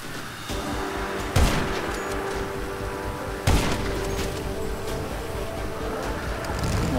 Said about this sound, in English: Sounds like there's gunshots going on.